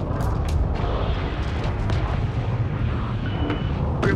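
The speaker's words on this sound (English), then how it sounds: "hope the bombers don't get hit by this explosion wave." Explosion wave in the space strategy game Homeworld 3, a dense rumbling roar of booms and crackling blasts that runs on without pause, with sharp bursts near the start and end and no talk.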